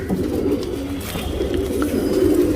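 Pigeons readied for tournament racing coo softly and continuously in low, throaty murmurs, with a steady background hum and no speech.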